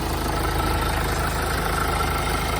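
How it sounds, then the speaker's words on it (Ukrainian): Engine of a 2015 Hyundai Santa Fe idling with the hood open, a steady, even mid-low hum with a faint regular pulse, heard close and alone. "Двигун працює рівненько, гарно, без всяких нарікань."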